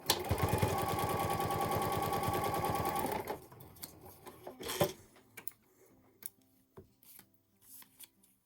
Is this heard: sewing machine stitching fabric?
yes